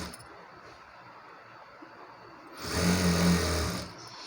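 A sewing machine stitches the folded lining cloth of a long frilled frock, a low steady motor hum rising into a louder whirring run for about a second before easing off, alone with no talk.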